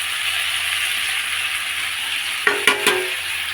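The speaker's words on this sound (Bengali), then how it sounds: "মাংস আর আলু দিয়ে দিলাম, আর কিছুক্ষণ কষাবো এটা" Meat and potatoes stir-fried in spice paste in a pan, a steady frying hiss throughout with a few sharp clinks of a spatula near the end.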